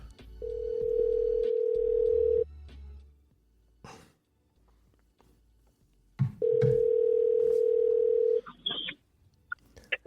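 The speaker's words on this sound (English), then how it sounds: "Let's call Wayne." Two long electronic telephone ring tones separated by a pause, with faint throat noises and small clicks between them.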